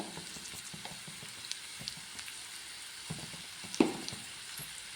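Wilted green chillies fry in a pan with turmeric powder for a green chilli pickle, making a soft, steady sizzle with light stirring scrapes and one louder clack near the end.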